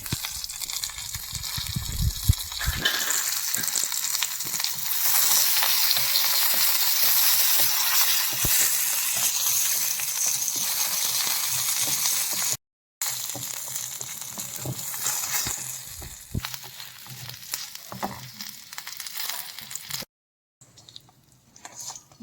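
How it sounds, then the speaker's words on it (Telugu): Mustard seeds, urad dal, cumin, a dried red chilli and curry leaves sputter in a spoonful of hot oil, giving a dense, close sizzle with crackles that thins out toward the end. "స్పూన్ నూనె వేసుకుని ఒక స్పూను ఆవాలు తాలింపు మినప్పప్పు జీలకర్ర ఒక ఎండుమిర్చి కరివేపాకు"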